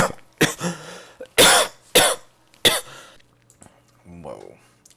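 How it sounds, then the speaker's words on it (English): Several harsh, close coughs in quick bursts, followed by quieter throat sounds and a brief voice. "I started coughing."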